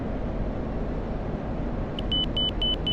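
An F-16C cockpit warning in the DCS flight simulator sounds as a series of short, evenly spaced electronic beeps. They start partway through over a constant low engine rumble.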